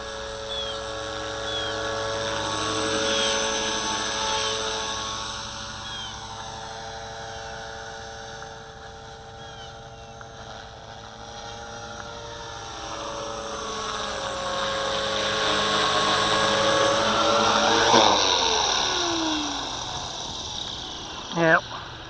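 V450D01 RC helicopter with a faulty swashplate flies and lands, its rotor and motor whine rising and falling with shifting pitch, then dropping away sharply near the end with a few clunks at touchdown; someone talks throughout.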